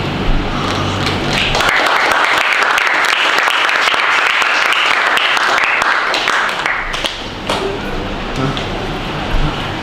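An audience at a school research paper presentation event breaks into loud, sustained applause that swells and carries on for several seconds before thinning out, with faint talk near the close.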